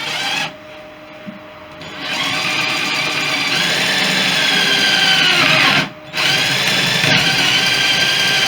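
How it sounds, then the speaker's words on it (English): A power drill bores a hole during work on a Fisher Youngster V elevator system, whirring loudly and close, starting briefly, pausing, then running steadily under load with one short stop before continuing. "I'm just going to drill the first hole through."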